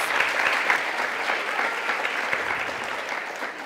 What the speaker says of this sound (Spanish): para quien también va nuestro reconocimiento a través de este aplauso.